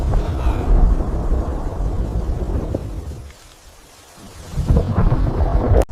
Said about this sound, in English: The storm. It comes.